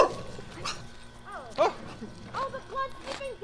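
Several dogs bark and yip in short bursts, some close and some farther off, while people talk over them at an outdoor night event.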